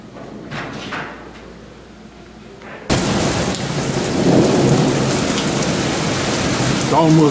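Heavy rain pours down outside during a tornado warning, with rolling, almost continuous thunder rumbling loud and close and little wind; the downpour surges abruptly louder partway through.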